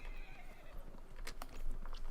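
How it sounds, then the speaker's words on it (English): Horse in Dragon Age Inquisition, galloping hoofbeats under a whinny with a few sharp clacks, fairly close and moderately loud in the game's soundscape. "Grab my horse."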